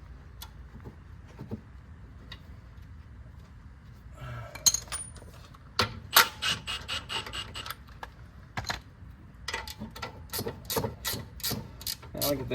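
A nut being run down onto a car's front sway bar link during a strut replacement, clicking ratchet or wrench ticks and metallic taps, sparse at first, then a faster run of clicks, close, under low background hum.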